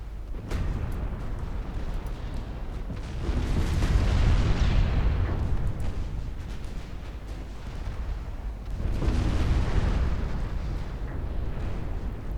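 Heavy naval shell impacts and explosions in a 1913-era battleship game, two long rumbling bursts of booming blasts separated by a sustained low roar, loud and dense with no talking.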